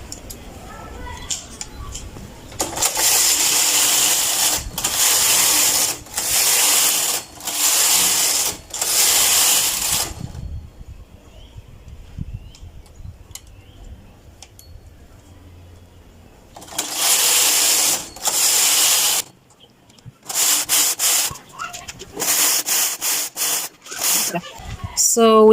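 A domestic knitting machine carriage sliding back and forth across the needle bed while knitting a punch-card skirt and increasing stitches, loud rasping whooshes in repeated bursts separated by quiet pauses, with a voice speaking in the gaps.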